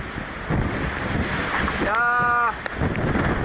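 Strong gusting squall wind roars across the microphone with rushing water and waves around a racing sailboat at sea in the Doldrums; a short whistling tone rises briefly midway.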